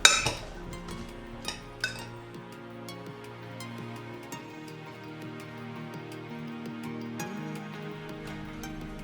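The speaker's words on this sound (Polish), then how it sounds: "I teraz wszystko dokładnie mieszamy." Roasted Brussels sprouts with nuts and garlic being tossed together in a dish, with clinks of utensil against cookware near the start and soft scraping stirring sounds continuing, fairly quiet, no talking.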